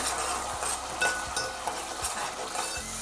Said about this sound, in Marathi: कांद्याची पेस्ट करून घेतली ती टाकून घेते परतवून घेऊया